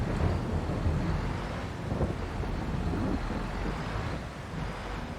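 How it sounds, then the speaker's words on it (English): A thunderstorm rumbles in the Farming Simulator 22 game on the Western Wilds map, with steady wind and rain noise and low rolling swells, moderately loud and without speech. "your thunderstorms and stuff, they just sound terrific"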